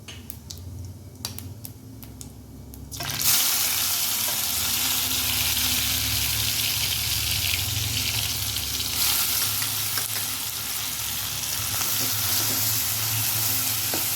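Blended onion, tomato, green chili and garlic hit hot oil with cumin for masala dal, bursting into a loud, sustained sizzle after a few quiet seconds of faint clicks, steady and close with light stirring.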